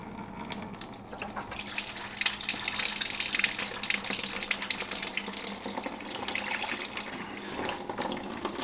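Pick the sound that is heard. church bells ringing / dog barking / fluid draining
fluid draining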